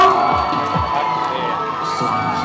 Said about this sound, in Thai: ขอเสียงปรบมือครั้งให้กับน้องไอชิเตะอีกทีครับผม